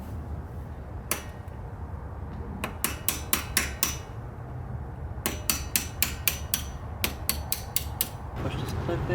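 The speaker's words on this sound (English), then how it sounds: "I'm just going to kind of use that and take a hammer to it to punch this pin out" A hammer strikes a Torx bit to punch out a brake pad pin on a 2016+ Cadillac CTS-V, with sharp metallic taps coming singly and then in quick bursts of several blows.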